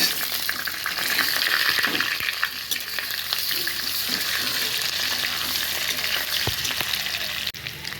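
Boiled potatoes fry in hot oil with whole garam masala, giving a loud, steady, close sizzle throughout, with occasional soft stirring knocks and no talking.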